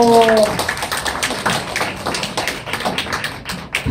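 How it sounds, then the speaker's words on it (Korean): An audience claps together at a troupe's entertainment show for residents of a nursing home, a dense, steady patter of applause lasting a few seconds, with a voice briefly audible over the start. "박수 주세요."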